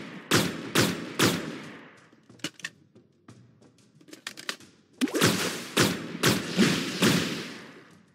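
Gunshots blasting apart barricades in the VR shooter Chrono Hunter: a few loud close shots, then scattered lighter cracks and impacts, then another run of heavy shots.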